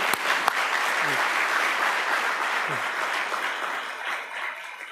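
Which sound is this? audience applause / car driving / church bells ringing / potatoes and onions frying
audience applause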